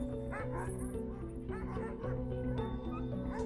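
Alaskan husky-mix sled dogs bark, yip and whimper eagerly in an overlapping chorus, several dogs close by and continuous, over a steady low background hum.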